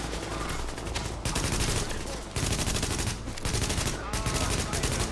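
Sustained automatic gunfire fills a session of Tom Clancy's The Division, blind-firing from cover at a tunnel checkpoint: loud, rapid bursts come in close succession, with brief gaps between volleys.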